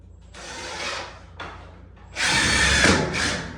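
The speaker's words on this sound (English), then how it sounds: "Pre-drill on these" A power drill whirs in short bursts, then pre-drills steadily into wooden structure high up for HVAC vent cover trim, with a louder, grinding run near the end.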